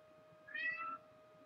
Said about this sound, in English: And now my child is having a meowing fit.